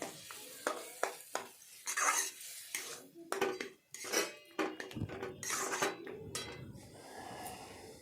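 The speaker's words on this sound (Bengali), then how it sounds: "তারপর নাড়াচাড়া করবেন।" Lentils being stirred in a cooking pot for a pumpkin curry, with scraping, clinking utensil strokes against the metal and a soft sizzle, close and irregular, fading into a quieter simmer at the end.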